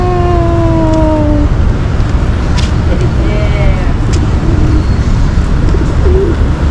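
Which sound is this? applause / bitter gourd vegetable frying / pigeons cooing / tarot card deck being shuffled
pigeons cooing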